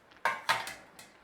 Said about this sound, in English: just stir in your potatoes, get them under there